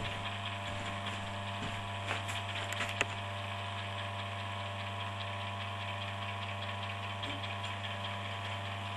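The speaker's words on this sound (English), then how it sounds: "there we've got the pilot motor running, and this is just no capacitors, just straight connection, and it starts just like that, and it runs very smoothly." Three-phase pilot motor running straight off a single-phase supply with no capacitors, a steady low electrical hum with faint mechanical ticks, smooth and even throughout at low level.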